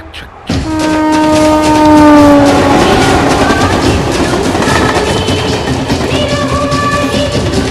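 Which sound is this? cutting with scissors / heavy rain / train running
train running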